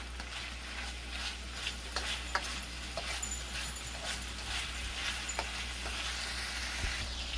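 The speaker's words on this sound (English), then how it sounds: "Michelle, she's stirring the kielbasa." Polish kielbasa sausage sizzles and fries in a pan as it is stirred, a steady low crackle with scattered sharp clicks and scrapes close by, no talking.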